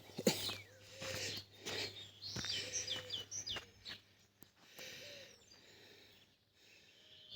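Birds sing and call from tall trees along a rural road, with a mix of chirps and hooting calls at moderate distance, irregular and layered against a quiet outdoor background.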